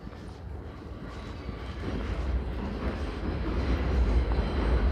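A D train rolls along elevated rails in Brooklyn's Sunset Park area, a steady low rumble that swells gradually louder as it approaches, with no talk over it.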